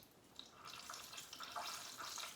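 Water dripping and splashing in a steady, hissing trickle, with scattered drops landing close by. No voices.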